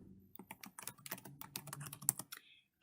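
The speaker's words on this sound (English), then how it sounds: "Typing in a password." Rapid, irregular clatter of keys as a password is typed on a computer keyboard, close and fairly quiet, alone with no voices, ending in a brief pause.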